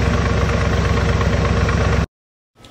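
Car engine idling steadily after its carburetor fuel-air mixture was adjusted, a loud, even rumble with fine rhythmic pulsing for about two seconds before cutting abruptly to silence, then faint sound returning.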